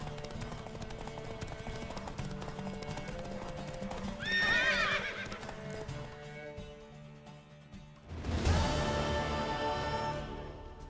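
Steady clip-clop of horse hooves at a gallop over a music bed in The Witcher 3: Wild Hunt, with a horse whinnying twice, loud and close.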